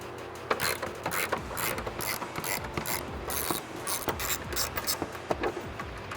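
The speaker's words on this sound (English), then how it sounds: "Grab a ratchet and a socket and get this guy off." A ratchet and socket work a 13 mm bolt off the factory airbox of a 2018-2019 Ford F150 2.7L EcoBoost, giving a close, rapid run of clicking ratchet strokes throughout.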